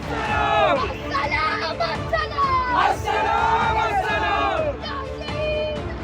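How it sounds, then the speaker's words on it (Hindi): A crowd at a street rally and march shouts slogans in loud, overlapping voices, with a voice prominent among them, continuous throughout with chanting rising and falling. "मार्च के दौरान भी भीड़ ने जमकर भड़काऊ नारेबाजी की।"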